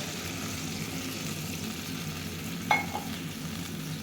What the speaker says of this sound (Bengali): মুরগিটা কষানো এবং ভাজা ভাজা কষানো হয়ে গেছে এখন ঝোল অ্যাড করে দিব